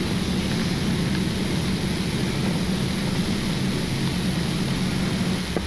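Steady, loud cockpit roar of a Boeing airliner from Angola climbing out after takeoff: a dense, unbroken engine and airflow wash that holds even throughout, with no talking.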